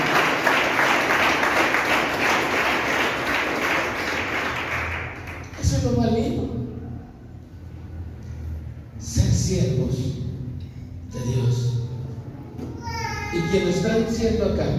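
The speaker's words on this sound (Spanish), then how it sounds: "Ese aplauso a Cristo Jesús." Applause from a church congregation during a Spanish-language worship service, a broad burst of clapping at the start that fades as a preacher begins speaking over it.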